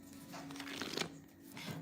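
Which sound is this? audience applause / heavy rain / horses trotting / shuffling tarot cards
shuffling tarot cards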